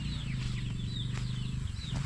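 A hen gives low, steady clucks close by while tucked in her nest, with faint chirps of chicks over a constant background hum.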